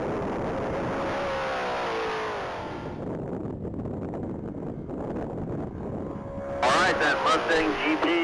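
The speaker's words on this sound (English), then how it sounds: "On deck is Juan Perez in a gray 2024 Mustang GT500." Gray 2024 Ford Mustang GT500 at a standing-mile top-speed race, engine rising in pitch as it accelerates, then a louder, closer roar as it passes, with a commentator talking over it.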